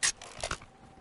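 Magazine swapped in a first-person shooter video game: a quick burst of close, crisp mechanical clicks and a ratcheting snap, all over in about a second.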